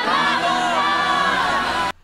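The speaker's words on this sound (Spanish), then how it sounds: "Y ahí gritan cuando entra Franco." A crowd of wedding guests shouts and cheers loudly and continuously as someone enters the celebration, a dense wall of whoops and voices that cuts off abruptly at the end.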